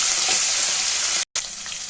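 Steady, bright sizzling of onions frying in hot oil, continuous and close, with a brief cut of silence near the end.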